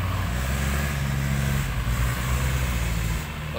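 Two tractors pushing a large dirt pile at a land-filling site, heavy diesel engines rumbling loudly and continuously with a deep, steady drone throughout.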